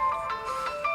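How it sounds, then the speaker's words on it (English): A mobile phone rings in a garage while valves are being reset on a Morris Minor, a melodic repeating ringtone of short tonal notes, moderately quiet and alone. "that's my phone going off at a critical moment"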